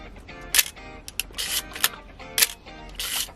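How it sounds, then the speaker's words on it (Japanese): A Nikon FE film camera's vertical-travel mechanical shutter fires several times at uneven intervals, each a crisp, bright, close-up metallic click with a brief mechanical clatter around it. "これはね、縦走りのメカニカルシャッターということでね"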